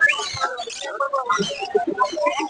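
At a busy bird market in Mirpur, Dhaka, dense overlapping chirps and twittering calls from many caged birds, including doves for sale, fill the air close by.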